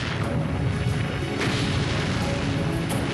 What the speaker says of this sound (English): The British battleships open fire.